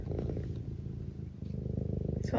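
A cat named Eric purrs up close in a steady, rumbling, rhythmic pulse that keeps going without a break for the whole clip, with no talking over it.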